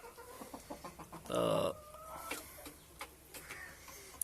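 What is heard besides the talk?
desi hens clucking on a farm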